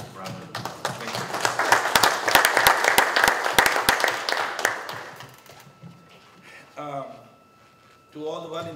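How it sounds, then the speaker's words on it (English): Applause from the audience at a city commission meeting in San Juan, a burst of dense clapping for about five seconds that fades out, followed by a voice speaking at a microphone. "Give yourselves a big wonderful round of applause."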